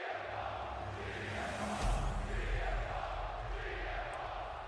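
Wrestling arena crowd cheering for CM Punk, a broad, continuous roar of many voices that swells briefly near the middle, steady and fairly distant.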